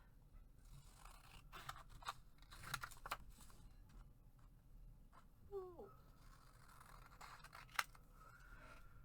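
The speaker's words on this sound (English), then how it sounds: "you see me cutting with the scissors" Quiet snips of scissors cutting paper in short bursts, close by, with soft rustling between cuts.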